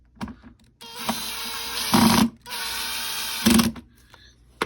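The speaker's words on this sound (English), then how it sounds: "Let me put these screws back in and show you guys how it looks like." A screwdriver drives screws back into a Roland Cube 60 keyboard amplifier, giving close ratcheting, mechanical whirs in short bursts, with two louder, longer runs amid brief pauses.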